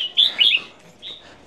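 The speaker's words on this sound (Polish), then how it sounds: "Ptaki na szczęście." Small birds chirp and tweet in a Thai water village, a few bright high calls in quick succession followed by a fainter chirp, near and clear with no talk.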